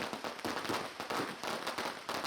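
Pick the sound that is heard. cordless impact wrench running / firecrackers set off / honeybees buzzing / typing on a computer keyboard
firecrackers set off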